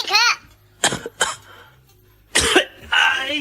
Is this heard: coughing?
yes